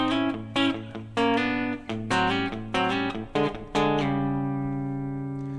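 A guitar plays a lick of double stops in a working-man's country style, starting with separate plucked notes and sliding up into ringing two-note chords that fade out at the end. It plays clear and alone.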